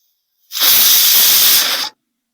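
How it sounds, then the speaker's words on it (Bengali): A pressure cooker on a gas stove lets out one loud, steady whistle of hissing steam lasting about a second and a half, starting abruptly and cutting off cleanly, with no talking. "এবার আমি এটাকে গ্যাসে চাপিয়ে দিলাম প্রেসার কুকারটা পাঁচটা সিটি পড়া অবধি অপেক্ষা করবো"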